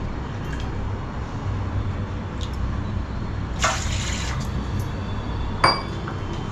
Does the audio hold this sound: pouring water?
yes